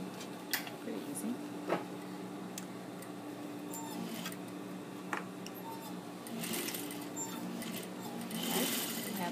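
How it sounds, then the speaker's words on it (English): Sewing machine running a half-inch seam on fabric, a continuous fast mechanical whir with a few sharp ticks, growing slightly louder toward the end, with no talking over it. "So we'll sew this one just at 1/2 inch seam allowance."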